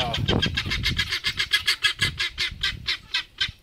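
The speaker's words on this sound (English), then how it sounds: "gotta love those guineas" Guinea fowl on a homestead near a chicken coop give a steady run of about fifteen sharp, rhythmic calls, loud and close, with a voice briefly talking at the start.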